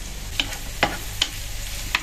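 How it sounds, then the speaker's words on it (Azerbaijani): A few scraping strokes of a wooden spoon stirring Mexican-style corn in a pan, four distinct scrapes spaced irregularly over a faint background hiss. "Bir dənə də taxta qaşıq gətirib qarışdır."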